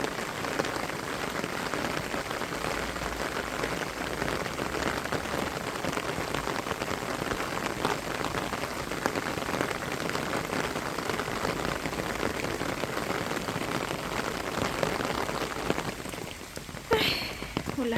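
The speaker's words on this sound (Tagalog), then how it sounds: "Ay, ulan na." Steady, dense rain pours down continuously, a broad hiss with pattering drops on surfaces, close and fairly loud throughout without any voices.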